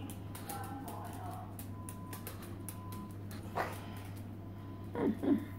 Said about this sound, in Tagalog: Matanda na tong aso na to.